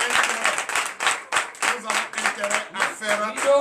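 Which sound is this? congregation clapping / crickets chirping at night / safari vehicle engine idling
congregation clapping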